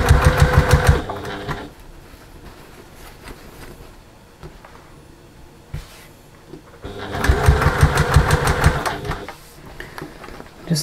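A sewing machine stitches a fabric trick-or-treat bag in short bursts: a loud rapid whirring run, a quieter stretch, then another loud run of fast rhythmic stitching, with no talk.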